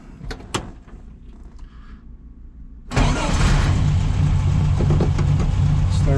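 A restored 1964 Volkswagen Beetle sunroof sedan starts up: a few quiet clicks and knocks, then the engine catches abruptly and settles into a loud, steady close idle.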